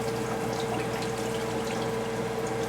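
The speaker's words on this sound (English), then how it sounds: "Drain off all the water off of that." Water drains off cooked vegetables for fish tea soup, a steady continuous pouring rush heard up close throughout with no pauses.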